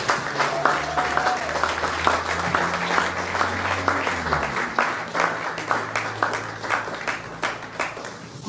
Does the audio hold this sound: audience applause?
yes